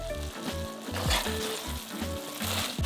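Peas and potatoes cooking together in a pan as a samosa filling, a close sizzling hiss broken by a repeating rhythmic low thumping pattern, with no one speaking.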